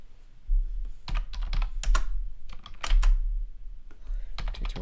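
Keys are pressed on a computer keyboard for the Control Alt F6 shortcut, heard as close, clattery clusters of keystrokes and clicks in irregular bursts over a low background hum, with no talking.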